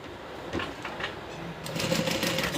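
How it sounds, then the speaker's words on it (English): Home sewing machine stitching curves on a Colette garment, running in short mechanical bursts that end in a faster, continuous whir, close and loud with no talk. "The sewing machine has 0 chill, so I can't just go like 1 stitch at a time."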